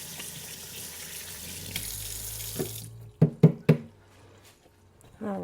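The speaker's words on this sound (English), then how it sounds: "Now let me wash my hands again real quick." Hands washed under a running kitchen tap, a steady hiss of water that shuts off, followed by several sharp knocks and a voice.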